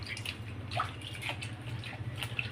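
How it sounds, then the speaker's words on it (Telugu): Water is poured over a cat during a bath, giving soft, faint trickling and light splashes over a low steady hum, with no talking. "మరి నీళ్ళు పోసుకోవాలి కదా నాన్న, స్నానం చేయలేవు కదా"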